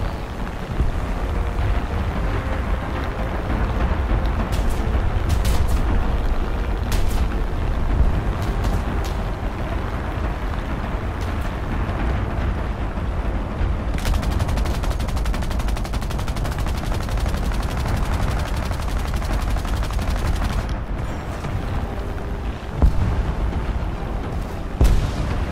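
Sustained video-game combat with dense gunfire, machine-gun bursts and booming explosions around a naval transport, loud and continuous throughout with sharp transient blasts, no talk.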